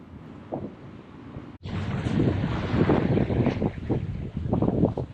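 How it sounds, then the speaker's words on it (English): Wind rushes over a reefed sailboat at sea in the Mediterranean. Steady broadband buffeting roars close against the microphone and gusts stronger after a brief dropout, with faint water and hull sounds beneath. "there's a fair bit of wind behind us"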